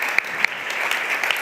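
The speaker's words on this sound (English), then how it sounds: "give them a round of applause" Conference audience applauding with dense, continuous clapping at moderate loudness and a few sharper individual claps standing out.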